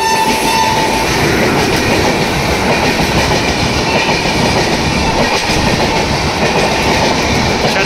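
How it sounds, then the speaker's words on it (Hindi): A superfast express train running on rails between Dahanu Road and Vadodara, a loud continuous rumble with rhythmic clickety-clack of wheels over rail joints, heard close from on board with no talking. "अभी ये है सुपर फास्ट एक्सप्रेस"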